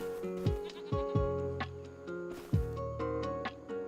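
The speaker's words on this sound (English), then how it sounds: "Goat's getting out." Goat bleating on a farm, several short wavering bleats from close by, loud and irregular, spread across a few seconds with brief gaps between calls.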